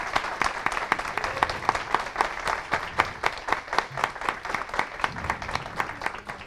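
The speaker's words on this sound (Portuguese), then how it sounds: "gostaria que vocês dessem uma salva de palmas para essa galera aí linda" A seminar audience in Rio applauds a team, sharp individual claps standing out distinctly above a steady wash of clapping that stays loud and even throughout.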